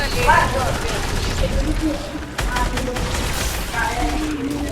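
Bursts of gunfire in the video game Fortnite crackle through a busy mix, with a player talking excitedly over the shots.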